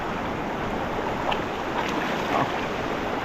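River water flowing in a steady, broadband rush, continuous and fairly loud with no clear breaks.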